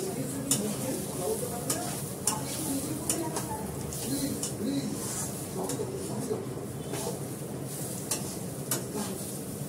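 Washed rice being sautéed and stirred in a pan for khichuri, a steady scraping and sizzling texture with repeated sharp clinks of utensil against pan, close and continuous for the whole stretch.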